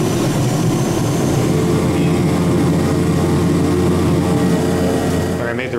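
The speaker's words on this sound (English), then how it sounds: "Each turboprop on the Super King develops over 900 horsepower." Beechcraft Super King Air 200 turboprop engines, each over 900 horsepower, heard from inside the cabin as a loud, steady droning roar with a constant low hum throughout.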